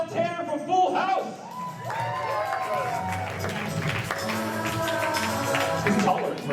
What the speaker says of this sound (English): Everyone, round of applause for Michelle Tanner from Full House.